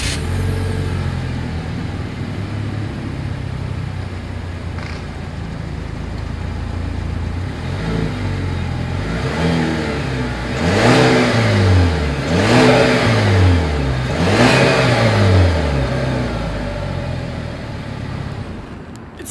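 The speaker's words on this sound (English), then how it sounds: "As always, here is that exhaust clip." A 2020 Chevrolet Malibu's engine idles steadily through its exhaust, then revs several times in rising and falling sweeps, loud and close with no talk.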